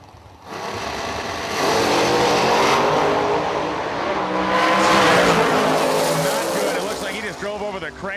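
A 1992 Camaro drag race car makes a qualifying pass at the Lights Out 9 drag racing event. The loud engine roars and revs hard down the track, with a commentator's voice running over it.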